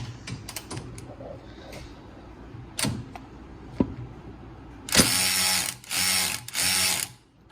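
Snap-on brushless 3/8-inch cordless ratchet works on a bolt: scattered clicks and taps first, then three loud close bursts of motor whine with a rapid ratcheting chatter, separated by short pauses.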